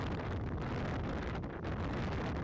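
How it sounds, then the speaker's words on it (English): Strong wind buffets the microphone on a beach at Jupiter Island, Hobe Sound, a loud continuous low roar and rumble with no other sounds standing out. "It's so windy."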